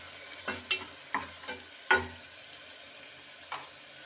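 Green gram stirred into hot oil with fried onions for sambar: a quiet background sizzle broken by a handful of separate spoon scrapes and clinks, close by.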